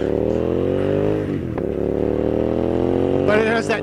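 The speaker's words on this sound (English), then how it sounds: "it has that nice burble and pop when you're downshifting" Hyosung GT650 motorcycle with an IXL exhaust, decibel killer removed, holding a steady low engine drone with a dip and a rough crackling burble near the end, heard up close.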